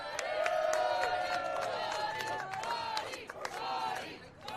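A wrestling crowd at an outdoor brewery show in Pittsburgh cheers and whoops for the ring announcer, with loud sustained shouts and whistles near and far, fading slightly toward the end.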